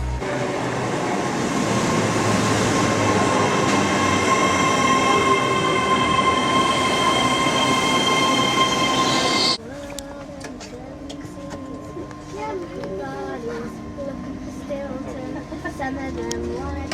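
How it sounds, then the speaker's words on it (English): A Nova 1 train arriving at Leeds station, loud with a steady roar of rolling wheels and motors that drops abruptly partway through to a quieter platform ambience with faint voices. "the train soon arrived and I was delighted to see that it was a Nova 1 train"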